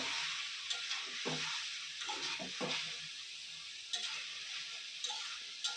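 Mustard paste being stirred into a simmering eggplant curry, a steady sizzle and bubbling with soft scraping strokes of a spoon recurring throughout, close by with no voices.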